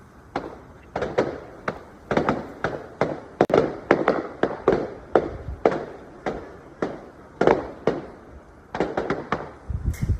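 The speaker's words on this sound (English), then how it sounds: "set off celebratory fireworks in Bankstown, Western Sydney" Celebratory fireworks go off in Bankstown, Western Sydney, in a rapid string of sharp cracks and bangs, dozens in quick irregular succession, fairly near and loud.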